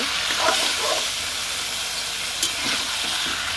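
Chicken meat frying in spiced oil gives a steady, close sizzle with stirring scrapes and a brief sharp crackle partway through.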